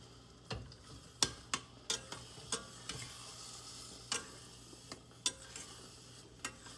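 Laddoo mixture being stirred in syrup in a pan, a series of sharp spoon scrapes and taps at irregular intervals over a faint sizzle, close and clear, with no talk.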